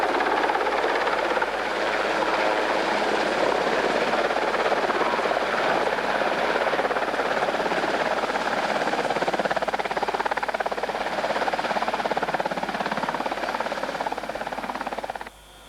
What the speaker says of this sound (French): L'hélicoptère est un Sea King des Nations Unies.